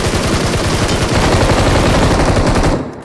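Loud, continuous automatic gunfire in PUBG Mobile, a dense rapid rattle of shots that runs almost the whole time before cutting off abruptly near the end.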